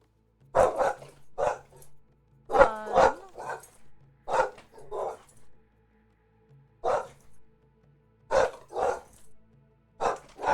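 Kay the dog barks at the mailman in a series of loud, close, sharp barks, some doubled, separated by short silences, with no other voices around.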